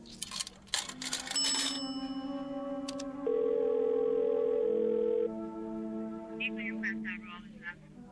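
A telephone dial tone in a Twilight Zone radio drama sounds as a steady electronic tone, preceded by clattering handset noises and ringing, moderately loud and close.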